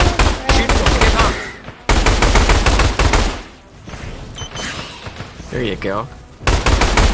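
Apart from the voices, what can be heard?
gunfire in the video game Orion: Dino Horde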